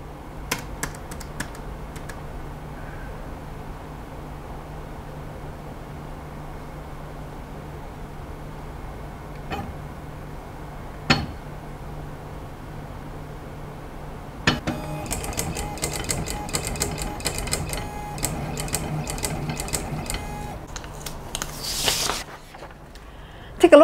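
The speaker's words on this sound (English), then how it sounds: "now I'm going to type 4 I's and 4 W and see" Keys on a Chinese homework writing machine tap faintly in scattered clicks, then a denser run of mechanical whirring and clicking builds near the end.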